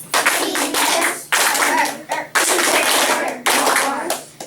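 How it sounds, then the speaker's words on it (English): A class of children clapping a rhythm together, loud sharp claps in short bursts separated by brief pauses, close and repeated in several phrases. "Ready, class? Clap it."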